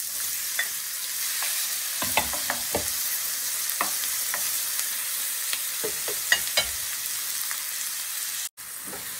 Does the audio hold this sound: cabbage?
yes